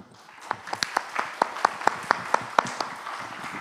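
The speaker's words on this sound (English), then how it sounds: "give them a round of applause" A small workshop audience applauds its panelists with sparse, distinct hand claps. About a dozen fairly regular claps stand out faintly over quiet room noise.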